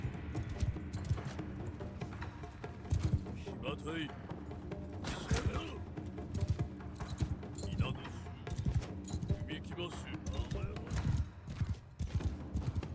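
Hooves of mounted horse archers clip-clop and pound in the samurai strategy game Shokuho, a busy rolling gallop mixed with battle noise, an occasional whinny and someone talking over it.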